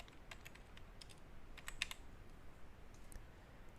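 Quiet computer keyboard typing, a short run of light, irregular key clicks entering a database password, close and alone with no talk.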